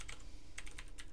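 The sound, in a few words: typing on a computer keyboard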